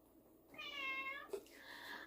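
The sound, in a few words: cat meowing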